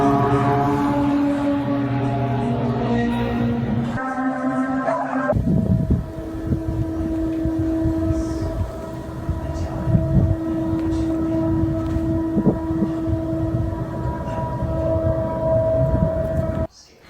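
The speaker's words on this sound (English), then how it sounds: "people around the world are reporting hearing these high-pitched trumpet-like sounds" A loud, sustained droning tone with harmonic layers, like a distant horn or trumpet blaring across open air, holding steadily for many seconds before cutting off.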